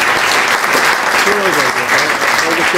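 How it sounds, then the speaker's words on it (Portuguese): Loud, close applause at a dinner gathering of the Academia do Bacalhau in Paris, a dense continuous burst of clapping with voices and murmurs mixed in beneath. "uma salva de palmas para ti,"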